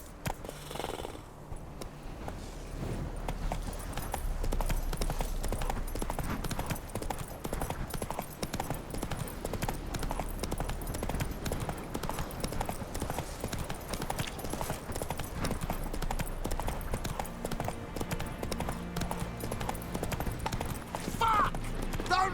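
Roach, Geralt's horse in The Witcher 3: Hearts of Stone, gallops with steady clip-clop hoofbeats through a dense in-game mix of music and ambience, continuous and loud across the whole stretch.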